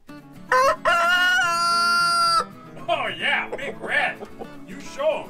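A rooster in a newly built octagonal chicken coop lets out one loud, close, drawn-out crow, followed by clucking and softer calls mixed with a voice.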